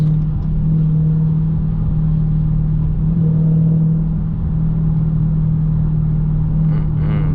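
A 2020 Dodge Challenger SRT Hellcat Widebody driving, its engine a loud, steady low rumble heard from inside the cabin with no talking, swelling slightly midway.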